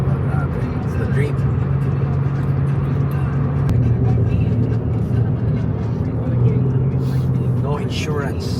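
An RWB Porsche drives with the top down in Japan, its steady engine drone and wind rumble continuous beneath voices talking in the cabin.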